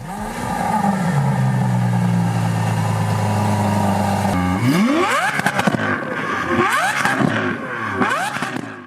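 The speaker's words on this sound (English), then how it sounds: "The engine's instant throttle response, high revving nature, and iconic exhaust note define the car's personality" A naturally aspirated 6.5-litre V12 car engine drones loudly at steady revs for several seconds, then snaps through sharp rising and falling revs with a raspy exhaust note, blipping repeatedly toward the end.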